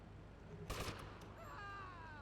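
Gunfire from the PS2 game GTA Vice City Stories: a single loud burst of shots near the start, followed by quieter game sounds with no talk.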